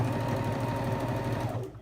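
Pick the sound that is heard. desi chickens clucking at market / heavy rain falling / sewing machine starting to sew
sewing machine starting to sew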